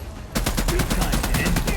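Covering gunfire in the sci-fi shooter Expanse: Osiris Reborn: a rapid, steady burst of automatic shots starts abruptly after a brief quiet moment and keeps rattling close and loud.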